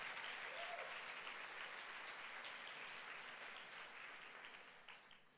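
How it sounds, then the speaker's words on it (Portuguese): A congregation at a Sunday church service applauds, a broad wash of clapping heard faintly from a distance that slowly fades toward the end. "Dê um aplauso a Jesus"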